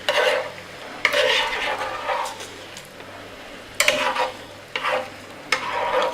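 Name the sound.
stirring macaroni in a pot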